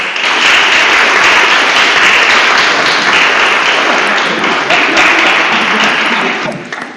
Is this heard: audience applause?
yes